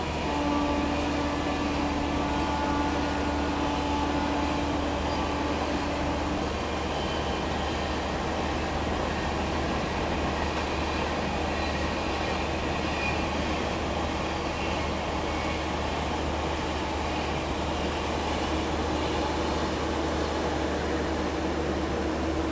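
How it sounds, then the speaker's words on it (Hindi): Vikramshila Superfast Express passing by, a steady loud rolling rumble with faint tonal whine that holds throughout without letup, no voices. "ये विक्रमशिला सुपरफास्ट एक्सप्रेस दोस्तों।"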